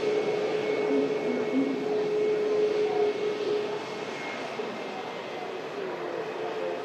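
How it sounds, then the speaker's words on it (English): A Virgin Atlantic Airbus A330 taxis across a runway at Manchester airport. Its jet engines give a steady, fairly close whine and rumble that slowly fades a little as the aircraft moves on. "Virgin Atlantic 330 just crossing the active arrivals runway now"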